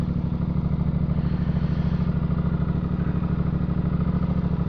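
A Suzuki GSX-8R motorcycle engine runs steadily and close, with a constant throbbing drone while riding and no speech over it.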